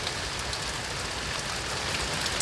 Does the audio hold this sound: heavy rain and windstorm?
yes